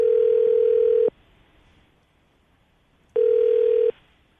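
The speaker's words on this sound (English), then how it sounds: "we're going to call her right now and see if we can get her on the phone" A steady telephone tone sounds in two loud, clean beeps, about one second and under one second long, with quiet line hiss between them as a call is placed.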